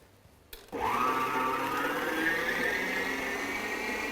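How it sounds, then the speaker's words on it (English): An electric mixer switches on with a click and whirs into a steady, loud motorized hum as it beats cupcake batter, the pitch rising slightly as it settles, close and alone without talk. "I'll just beat my eggs a little bit with a fork and switch on my mixer"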